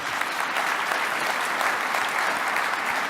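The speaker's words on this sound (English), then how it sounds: "How about a round of applause, everybody?" An awards ceremony audience applauds in a dense, even wash of clapping that holds steady at full strength for the whole few seconds, with no voices over it.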